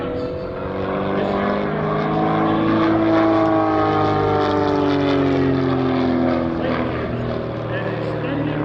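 A Pitts S1S aerobatic propeller plane roars loudly overhead at an airshow, its engine pitch sweeping and shifting as it maneuvers, with an announcer's voice talking over it.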